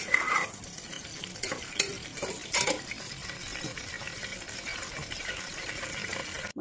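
Whole garam masala spices fry in hot ghee for a mutton pulao, a steady close sizzle with spoon scrapes and a few sharper clinks near the start.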